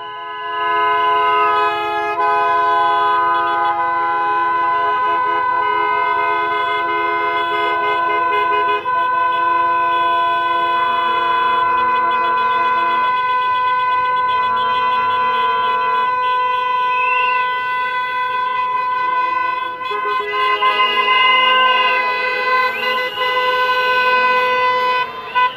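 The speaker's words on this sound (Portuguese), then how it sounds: "A gente ouve muito buzinaço nas ruas, nas rodovias" Car horns blaring at a roadside protest on the BR 470 highway in Bento Gonçalves, Serra Gaúcha, Brazil: long, sustained overlapping honks run almost without a break, loud and steady, with tones shifting as vehicles join in.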